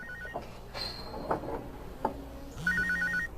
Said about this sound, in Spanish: cuando sonó su teléfono portátil